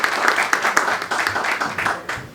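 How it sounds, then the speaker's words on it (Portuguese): An audience at a funk panel at Casa da Favela claps for itself, a short, close burst of hands clapping with a loose, slightly uneven rhythm. "Eu queria uma salva de palmas para vocês que estão nos acompanhando."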